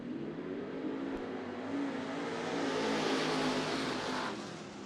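IMCA stock cars roar off turn four at the start of a heat race at Bakersfield Speedway, engines swelling into a loud rising rev as the pack accelerates.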